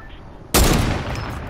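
A sniper gunshot in a video game, heard as a single loud, sudden blast followed by a sustained noisy rumble that slowly fades.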